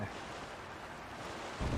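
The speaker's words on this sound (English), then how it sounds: "It's sailing pretty fast with the wind from the fans." Steady rushing wind and water noise from a boat sailing fast across a river, driven by the wind of two fans, in the video game Zelda: Tears of the Kingdom; a continuous, even wash with no voices.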